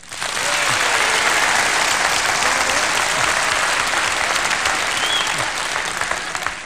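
Studio audience at a 1994 stand-up comedy show bursts into dense, sustained applause that stays loud and even throughout, with no talking over it.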